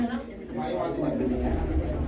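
Pigeons at a rooftop pigeon-keeping show in Old Delhi's Ballimaran coo softly and continuously, low murmuring calls close by, while someone talks over them.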